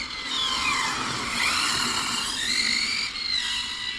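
A Hobao VTE carbon RC car drifts with loud, sustained tire squeal and high-pitched skidding whine. The screech rises and falls across several sweeping slides, close by and alone.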